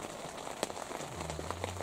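Rain patters steadily on a hunting blind during a moose hunt, a soft, even drizzle of droplets with a few sharper taps, faint and close, with no talking.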